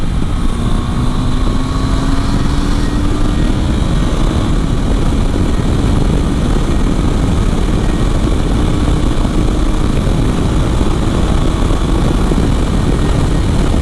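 KTM 390 Adventure motorcycle, fitted with a 47-tooth rear and 14-tooth front sprocket, accelerating hard in fifth gear: a loud, steady engine drone with a slowly rising tone under heavy wind rush, close and continuous throughout.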